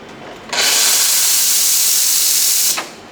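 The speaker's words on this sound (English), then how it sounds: "we're just going to purge our steam wand to get rid of any excess water or build-up that might have occurred while it hasn't been operating" Steam wand on a Sanremo Zoe Compact espresso machine purging in one loud, steady hiss lasting a couple of seconds, starting and stopping abruptly, close and without talk.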